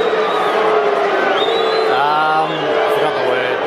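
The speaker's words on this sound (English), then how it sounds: "the crowd aren't liking him here" A large AFL crowd at an Adelaide versus Collingwood match in 2022 roars in a steady, dense wash of massed voices that rises and falls while a person talks over it.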